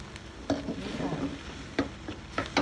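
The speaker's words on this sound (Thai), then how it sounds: "นำไก่ที่หั่นไว้ใส่ลงเลยนะคะ" Chopped chicken sizzles and fries steadily in a pan for chicken curry, with a few sharp clatters of ingredients or a utensil hitting the pan at intervals.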